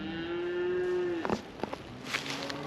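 A cow, an embryo-transfer carrier cow on a Nebraska farm, lets out one long, low, steady moo that ends abruptly, followed by softer scattered farmyard noises.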